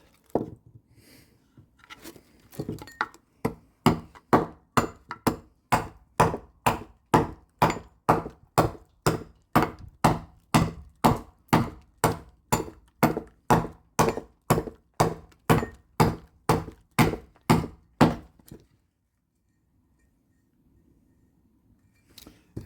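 An adze chopping green wood to hollow a bread bowl, striking in a steady run of about forty sharp, evenly spaced thunks, then stopping abruptly into near silence.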